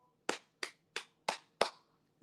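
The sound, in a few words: hand clapping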